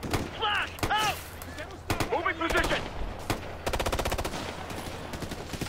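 Gunfire from the video game Ghost Recon Future Soldier: scattered loud shots, then a rapid run of automatic fire in the second half, with voices talking and shouting over the opening shots.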